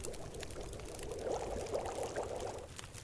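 Water pours steadily and softly for about three seconds as snow-melt is filled in The Long Dark survival game, a continuous low splashing trickle with no voices over it.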